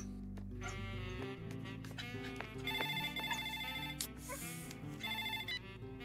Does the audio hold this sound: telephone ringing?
yes